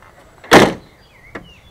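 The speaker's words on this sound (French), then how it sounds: "ça va permettre de claquer la porte comme une voiture normale" A car door slams once, a sharp, loud thud that dies away quickly, followed a moment later by a fainter click, close by in otherwise quiet surroundings.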